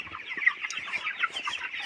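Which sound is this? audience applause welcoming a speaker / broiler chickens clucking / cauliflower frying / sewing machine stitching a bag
broiler chickens clucking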